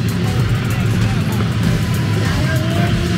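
Cars roll past on a street outside a secondhand clothing shop, a steady, fairly loud traffic rumble with a murmur of voices mixed in.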